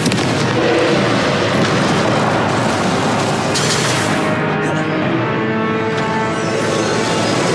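Fiery Confringo spell explosions in Hogwarts Legacy on PS4 pound out in a loud, unbroken barrage of booms and crackling bursts, with a sharp blast around the midpoint before the rumble carries on.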